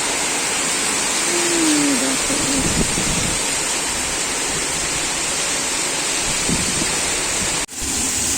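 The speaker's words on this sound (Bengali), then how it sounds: "খুব জোরে বৃষ্টি হচ্ছে" Heavy storm rain roars as a steady, loud wash of noise, with a faint brief whistling tone early on and a short dropout near the end.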